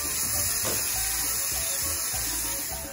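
Nopales sizzle in a hot pan as they are stirred, giving a loud, steady hiss with faint scraping bursts throughout.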